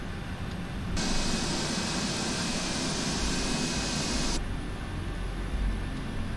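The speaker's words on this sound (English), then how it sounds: "Listen to them engines. They're sounding real purty." Boeing 747-8 jet engines starting up at the gate: a steady hissing, whining roar swells suddenly, holds evenly for several seconds, then drops back to a lower rumbling hum.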